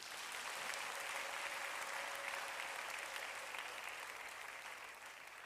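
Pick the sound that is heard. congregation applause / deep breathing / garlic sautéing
congregation applause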